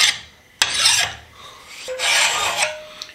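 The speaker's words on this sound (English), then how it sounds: "That file digs right in." A hand file rasps across the hardened steel head of a Harbor Freight Pulaski axe in two long, loud scraping strokes, the first opening with a sharp click, with a short pause between them and no talking.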